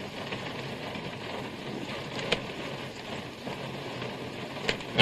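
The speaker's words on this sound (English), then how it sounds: "I thought we'd wait out this rain, okay?" Rain falls steadily outdoors as a soft, even hiss, with faint wind, a couple of brief taps and a thump at the end, and no voices.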